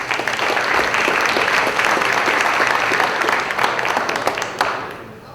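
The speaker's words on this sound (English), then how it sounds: "We give them all a round of applause." Luncheon audience applauding the hosts and staff at La Gabrielle restaurant, a dense, steady wash of many hands clapping close by that holds for about five seconds before thinning slightly at the end.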